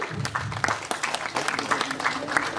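An audience claps at a music and film awards ceremony, with sustained, moderately loud applause and a person speaking over the clapping.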